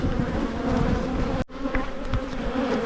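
Honey bees swarm and buzz around an open hive during an inspection, a dense, steady drone that cuts out briefly midway and then resumes at full strength.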